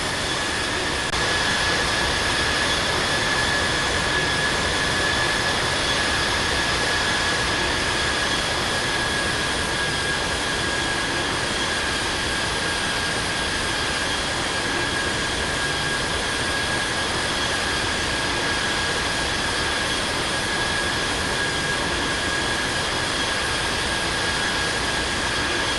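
A Boeing 787 jet roars continuously during takeoff from Sydney Kingsford Smith Airport in the Infinite Flight game, a steady engine drone with high whining tones, alone and unchanging.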